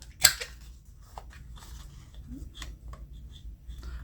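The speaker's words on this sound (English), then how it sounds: "let's round the corners" Paper planner pieces having their corners rounded with a cutting tool, one sharp crisp snip at the start followed by scattered faint clicks and paper rustles at close range.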